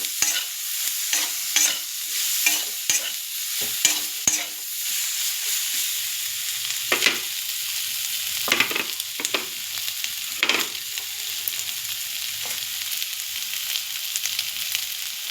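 Taro and pumpkin curry with turmeric, chilli powder and a little sugar being stirred and fried in a pan, repeated scraping strokes over a steady close sizzle.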